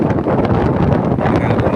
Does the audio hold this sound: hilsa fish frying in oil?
no